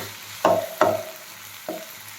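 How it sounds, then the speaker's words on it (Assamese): Small potatoes and raw banana frying in a pan are stirred with a utensil, giving three distinct scraping strokes with sizzling bursts, two close together and one after a pause, under a faint steady sizzle. "এতিয়া মই এইখিনি অলপমান লৰাই দিছোঁ"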